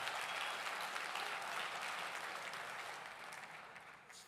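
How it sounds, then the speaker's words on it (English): Dense audience applause fills a gala hall in St. Louis, steady and full at first, then slowly tapering off toward the end. "Please, do give them a round of applause."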